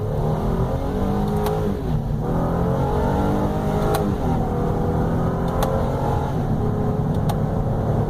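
A 2016 Honda Pilot Elite with a nine-speed automatic accelerates along a straight road under paddle shifting, a steady loud engine drone rising in pitch and dropping at each upshift, with no talking.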